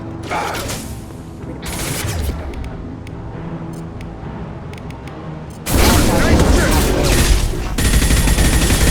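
Sci-fi weapon fire in a Mass Effect 2 combat sequence: sustained mechanical rattling and bursts of shots over a game score, swelling into loud, dense volleys in the last few seconds.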